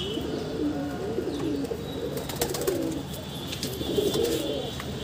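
A pair of red pigeons coos repeatedly in soft, low rolling calls at close range, with a few faint chirps and steady background noise between the phrases.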